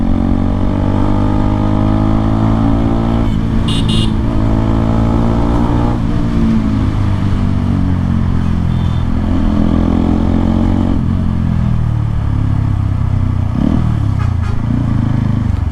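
A motorcycle with a newly installed exhaust revs and pulls hard throughout, its pitch climbing and dropping through several gear changes, loud and close.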